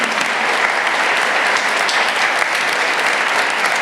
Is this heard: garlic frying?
no